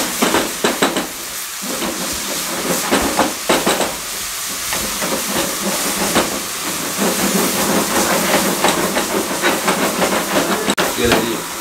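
Masala with coriander powder roasting in oil for chicken tikka masala, a loud continuous hiss and sizzle with repeated scraping strokes of a spoon stirring the spices, close and busy throughout.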